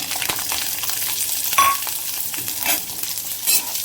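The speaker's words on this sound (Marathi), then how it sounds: "लसूण चांगला भाजून घ्यायचं" Garlic frying in hot oil in a pan gives a steady, close, bright sizzle and crackle, with a few stirring scrapes rising through it and no talking.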